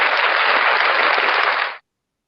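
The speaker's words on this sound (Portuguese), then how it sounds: "Aplausos para você." A studio audience on a Brazilian television interview program applauds the guest, a writer, with a dense burst of clapping that holds steady for under two seconds and then cuts off abruptly into silence.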